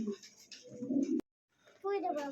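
Rasgolla pigeons of uniform homogeneous colour cooing at a pigeon market, low soft coos mixed with background chatter and a brief gap of quiet before cooing resumes.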